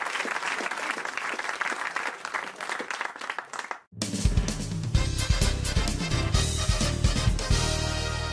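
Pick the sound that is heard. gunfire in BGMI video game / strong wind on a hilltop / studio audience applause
studio audience applause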